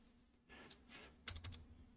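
A few quick keystrokes tapped on a computer keyboard while entering a short product search, faint and close against a steady low electrical hum.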